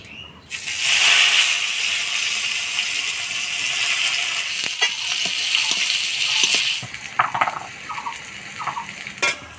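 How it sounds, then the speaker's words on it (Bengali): Chopped onions with dried chillies and cumin seeds frying in hot oil give a steady, fairly loud hiss and sizzle, with scattered scraping and stirring clicks near the end. "পেঁয়াজটা দেখেন লাল লাল করে ভেজে নিলাম।"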